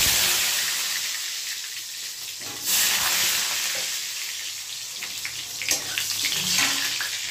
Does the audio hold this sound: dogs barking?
no